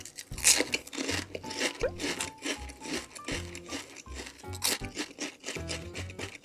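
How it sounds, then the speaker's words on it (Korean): Chili-flavored potato chips are crunched close to the microphone, with loud, crisp bites and chewing repeating in a quick, uneven rhythm throughout. "고추칩부터 먼저 먹어볼게요. 짠 진짜 먹으면 딱 아삭아삭할 것 같아."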